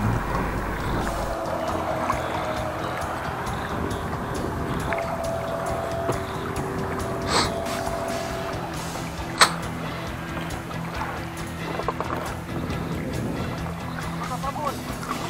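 Boats motoring along the Akhtuba river, a low engine drone that rises and fades as craft pass at a moderate distance, with people talking at times.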